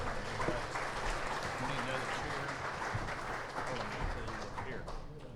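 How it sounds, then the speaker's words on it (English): Audience applause for a panel at a regional water summit, a steady, fairly faint wash of clapping from a room full of people, continuing evenly throughout with background murmur. "how about a round of applause for our panel?"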